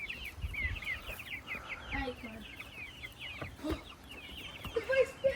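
Backyard chickens cluck and chirp in a steady stream of short, bright calls, with soft scuffling and an occasional quiet voice in the background.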